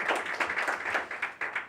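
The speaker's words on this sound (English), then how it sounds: "Let's get a round of applause for that, man." A small group clapping, the claps loud and close with uneven rhythm, briefly swelling and dipping.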